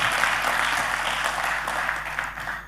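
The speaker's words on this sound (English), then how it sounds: "Let's clap for Esther." Applause from a workplace audience at a marketplace conversation session, steady broadband clapping that stays fairly loud and even across a few seconds, with no talk over it.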